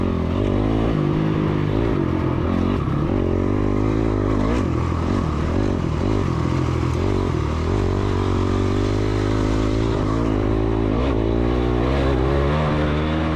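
A dirt bike engine revs hard in second gear during a woods race, its loud, close, steady motor note holding high throughout with no speech.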